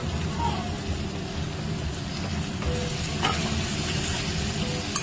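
Whole okra sizzles steadily in hot oil in a pan, a dense continuous frying crackle with occasional stirring scrapes, while a person talks over it.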